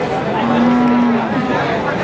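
A Limousin feeder cow at the Sunday cattle market in Tuban, ahead of Eid al-Adha, gives one drawn-out low moo. Steady crowd noise from the busy market surrounds it, and people talk nearby.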